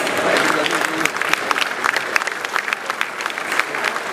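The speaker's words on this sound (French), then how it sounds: "Est-ce qu'on peut l'applaudir, s'il vous plaît?" Audience applauding at a special evening event honouring Papa Wemba's wife, a dense, steady wash of many clapping hands close by that fills the whole stretch, with a voice briefly audible beneath it.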